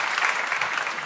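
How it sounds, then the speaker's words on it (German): A studio audience at a Schlager music TV show applauds after a song. The clapping is brief and continuous, a dense, even patter of many hands at moderate volume. "das ist euer Applaus"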